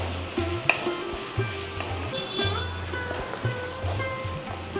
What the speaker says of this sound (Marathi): त्यानंतर आपण मटार घालूयात. तो छान असा परतून घेऊयात.